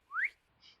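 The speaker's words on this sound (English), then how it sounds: "Can you add like a whistle sound to this part?" A short rising whistle swoops upward, then a faint, brief second whistle follows, both quick and alone.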